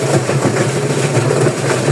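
A homemade machine powered by a washing machine motor runs loud and steady nearby, a continuous rumbling whir with a rattling, rhythmic clatter and no voices over it.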